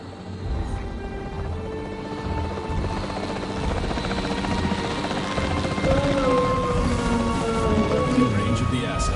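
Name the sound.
capture team helicopter in a dinosaur park video game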